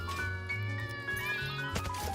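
A house cat meows loudly and close, one long drawn-out wavering cry with a rising, whining tone, then a brief sharper sound at the end, alone with no talk.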